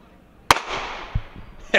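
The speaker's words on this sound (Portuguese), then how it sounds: "Uma pequena explosão." Soap bubbles ignite in a small explosion: a sharp close pop followed by a short whooshing burn, then a second abrupt burst near the end.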